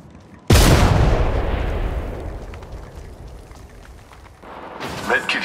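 A frag grenade explodes in the video game Apex Legends with a sudden heavy boom whose deep rumble decays over several seconds, followed by another louder burst near the end.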